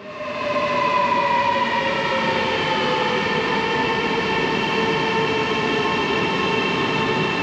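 Interior of a train travelling from Aberdeen, a steady loud rumble with sustained tonal whine from the motors and wheels, constant throughout after a brief rise at the start, with no talk.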